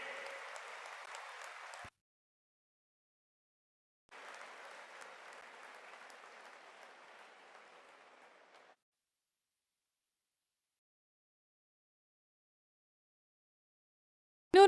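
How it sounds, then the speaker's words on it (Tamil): A packed hall applauds at the opening ceremony of the 44th Chess Olympiad, two bursts of steady crowd clapping separated by a short silence, the second fading out gradually. "இன்னொரு முறை அரங்கம் நிறைந்த கைத்தட்டல்கள் மாண்புமிகு பாரத பிரதமர் திரு நரேந்திர மோடி"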